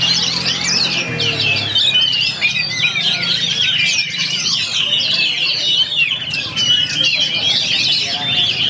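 Kacer magpie-robins sing at a songbird contest, dense overlapping chirps and whistles running continuously and loudly, with crowd murmur beneath.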